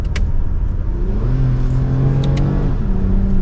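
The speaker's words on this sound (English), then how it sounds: "You hear a lot more of the engine than you do the exhaust" A 2024 Toyota Camry TRD accelerating, its engine note more prominent than the exhaust, giving a steady, close whirring drone that climbs in pitch, with a couple of faint clicks over it and no talk.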